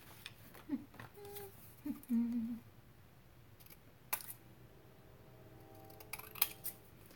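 Scissors snipping paper for a scrapbook page, heard as a few quiet, close cuts and crisp rustles spaced out over several seconds, with small clicks and a brief higher squeak between them.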